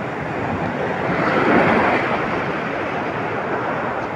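Ocean waves surge in a continuous broadband roar, swelling slightly in the middle, with wind buffeting the microphone throughout.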